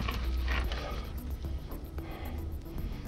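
Rapid mechanical ratcheting chatter of a compressor-driven air impact gun at work under a Mk3 Mondeo during a bottom pulley change, a close, busy rattle with brief bursts and no talk.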